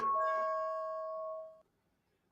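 A stock market opening bell gives a single clear ding that rings out steadily and then stops abruptly after about a second and a half, close and moderately loud with no talk.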